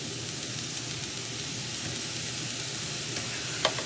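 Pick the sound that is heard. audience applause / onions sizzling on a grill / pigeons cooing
onions sizzling on a grill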